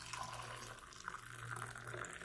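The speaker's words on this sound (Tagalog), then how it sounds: "atong butangan og init tubig" Hot water pours steadily into a cup for turmeric tea, a soft continuous rushing and splashing stream, faint and unbroken, with no one speaking.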